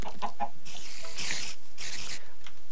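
Chickens in modded Minecraft give loud, close clucks and short squawks in a few quick bursts over about three seconds, with no talking.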